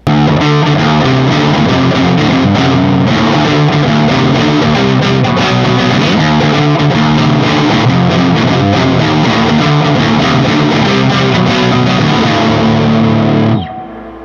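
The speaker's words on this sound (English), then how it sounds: "It was fuzz for sure." Electric guitar played through a fuzz pedal, thick and saturated with sustained buzzy chords and notes, loud and continuous for about fourteen seconds before cutting off abruptly, with no voices.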